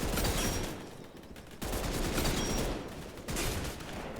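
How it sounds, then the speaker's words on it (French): Sustained automatic gunfire in a first-person shooter video game, long rapid bursts fired back to back in three runs, dense and loud, with no voices over it. "je m'arrête pas de tirer pour pouvoir garder le contrôle du recul"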